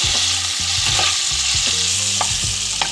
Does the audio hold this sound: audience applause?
no